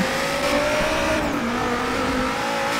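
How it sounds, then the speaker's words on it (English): A 2016 Dodge Viper ACR's V10 engine in the Forza Horizon 3 racing game, held at a loud sustained high-revving drone with a slight pitch sag and recovery, with no voices over it. "This engine sounds pretty similar because um, both these cars have V10s"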